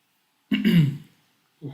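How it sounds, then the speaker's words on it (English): A single gravelly throat clearing, close and fairly loud, followed by a brief vocal sound after a short pause. "I do need to clear my throat after saying that."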